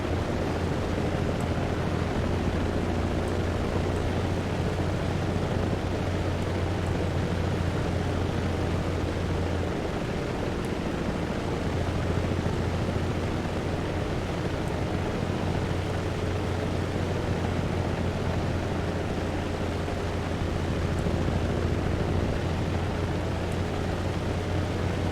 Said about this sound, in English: So now I'm gonna play this helicopter while everyone else is playing Hinds.